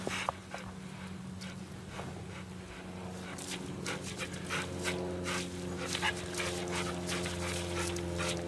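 A dog pants steadily on a walk in the rain, quick rhythmic breaths close by, continuing throughout over faint outdoor noise.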